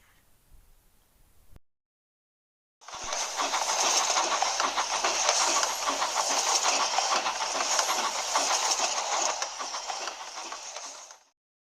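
A steam engine on an animated railway runs steadily along the rails with a loud, continuous hissing rush and faint rhythmic clatter, starting abruptly after a brief pause and cutting off near the end.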